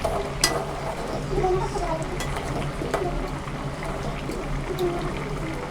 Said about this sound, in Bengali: তরকারিটি আবার নাড়াচাড়া দিয়ে দেবো